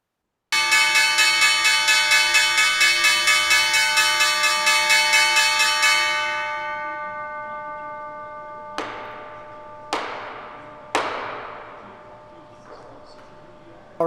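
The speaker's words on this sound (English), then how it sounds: "that was the second straight closing bell with no one down on the floor of the New York Stock Exchange" The closing bell at the New York Stock Exchange rings in a long rapid ringing burst, then fades, followed by three single clanging strikes that each ring out and decay, clear and alone.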